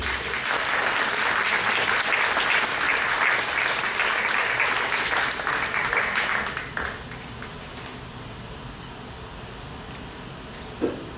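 Applause fills the room at a municipal council meeting in Cadenet, a dense, loud patter of many hands that holds steady for several seconds, then tapers off sharply into quiet room tone with a last faint clap.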